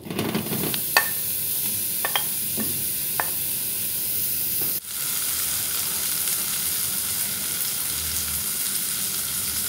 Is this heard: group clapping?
no